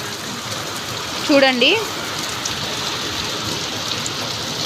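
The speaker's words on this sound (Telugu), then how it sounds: "చాలా పడుతుంది వర్షం." Heavy rain pours steadily at a home, a dense, even wash of falling water throughout, with a brief voice speaking over it partway through.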